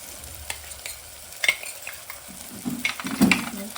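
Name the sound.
stirring sambar masala mixture in a pan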